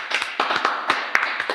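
Applause breaks out for a guest on an Indonesian talk show, a close, loud burst of clapping with uneven sharp hand claps, heard alone without talk.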